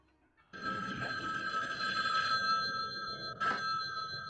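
A telephone rings continuously in a Halloween fan-made PC video game based on John Carpenter's Halloween, a bright, steady trilling electronic bell that starts abruptly and carries on loudly and close, with a short thump partway through.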